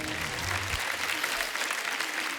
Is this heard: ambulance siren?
no